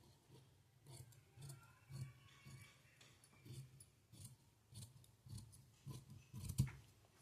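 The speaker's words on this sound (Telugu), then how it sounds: "ఇప్పుడు మనం కటింగ్ చేసుకోవాలి." Scissors cut through blouse fabric in a series of soft, rhythmic snips about every half second. The sound is close and fairly quiet, with no voices.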